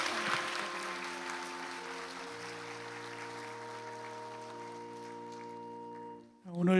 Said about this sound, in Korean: 우리 새 생명 박수로 축복하시겠습니다.